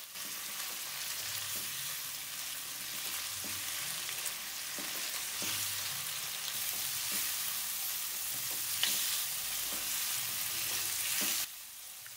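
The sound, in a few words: chicken frying in a pan on high flame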